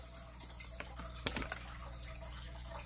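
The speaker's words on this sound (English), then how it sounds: "Should I Get rid of the water noise. I can unplug the fish tank while I stream?" Soft trickling and dripping from a home fish tank, a quiet bubbling bed with a few small drips and one sharper splash near the middle.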